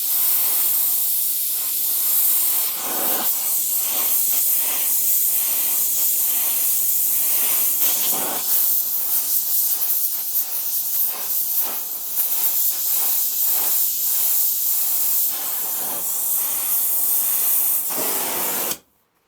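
Gas torch roars with a loud, continuous hiss while heating metal for a tractor linkage fabrication job, flickering slightly throughout before cutting off abruptly at the end.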